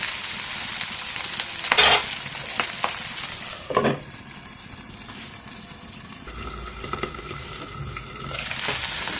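Broad bean and tomato curry fries hard over a high flame, a close, busy sizzle with crackles and several sharp stirring scrapes and knocks against the pan.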